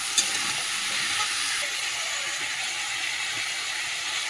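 Cut potato and eggplant frying in a pan, giving a loud, steady sizzle that holds evenly throughout, close up, with one small clatter near the start and no talking.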